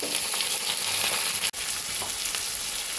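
Chopped carrot and capsicum sizzle in hot oil in a wok, a loud, continuous close frying hiss broken by one very short gap midway.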